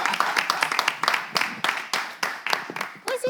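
An audience claps for a bailiff being welcomed onstage, giving uneven bursts of applause mixed with voices.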